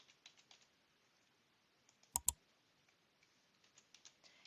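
Phone number being typed on a computer keyboard: quiet, scattered key clicks in short bursts, with a sharp pair of louder clicks near the middle, close and alone in a quiet room.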